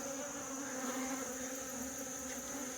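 Dense, steady buzzing of many bees around a weak beehive box in a summer apiary, a continuous close drone with no talk.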